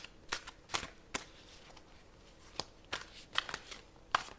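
Close, crisp bursts of tarot cards being shuffled, irregular riffling snaps and flicks with quiet pauses between, no talking.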